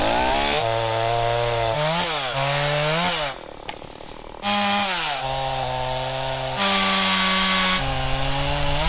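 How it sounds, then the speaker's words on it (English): A chainsaw roars loudly at close range, its engine pitch rising and dropping as it bites into wood, with a brief idle pause midway as the saw gets stuck. "I got the chainsaw stuck"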